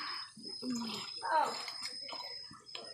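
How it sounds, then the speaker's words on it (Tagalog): Hot spring water gurgles and splashes as it flows out, close by, with people talking over it throughout. "Gawas din tubig."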